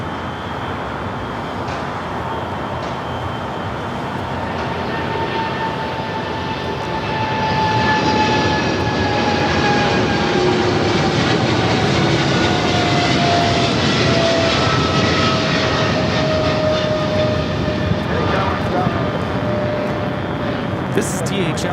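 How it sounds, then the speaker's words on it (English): A Polar Air Cargo Boeing 777 freighter flying for DHL takes off at Los Angeles: a deep, building jet roar that grows louder midway and holds, with sliding turbine whine tones and faint talk underneath. "This is DHL, operated by Polar Air Cargo 962, taking off to Cincinnati on the 777 freighter"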